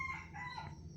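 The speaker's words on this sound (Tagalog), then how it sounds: "maririnig nyo yung mga tilaok ng manok" A rooster crows once in the early morning, a brief, faint and somewhat distant call with no talking over it.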